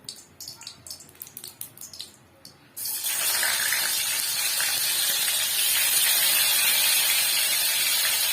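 Hilsa fish pieces slide into hot oil in a pan for fish soup: a few knocks and clatters first, then a sudden loud, hissing sizzle that stays steady and strong for several seconds.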